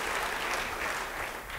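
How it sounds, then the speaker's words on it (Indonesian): A church congregation claps together during a sermon, a continuous wash of loud applause with no voices over it. "Yang percaya, beri tepuk tangan bagi dia."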